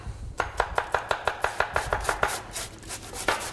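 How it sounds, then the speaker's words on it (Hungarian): Garlic and potato are rubbed against a hand grater in a quick, even run of about a dozen rasping strokes that then loosen into a few slower, irregular scrapes, close up with no talking. "De most én a legfinomabban fogom reszelni a fokhagymát is, és a burgonyát is."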